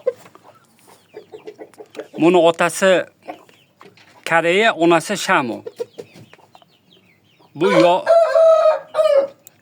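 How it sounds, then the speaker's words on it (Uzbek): A rooster offered for sale clucks and crows in three loud, close bursts, the last a drawn-out crow, with someone speaking between the calls. "Mana shu xo'rozni ko'pchilik so'radi."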